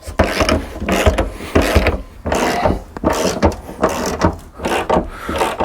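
Repeated wrench or ratchet work on a 19 mm nut, tightening it onto a Jeep JKU seat bracket during a plate system install. Several bursts of mechanical clicking and scraping come close and loud, separated by short pauses, with no talking.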